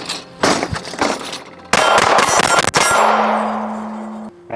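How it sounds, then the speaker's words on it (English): A rapid string of gunshots rings off steel targets at a shooting range, dense overlapping cracks and clangs with lingering metallic ringing, loud and close, ending in a sustained tone. "get some over the shoulder shots so we can show you guys that he is hitting steel"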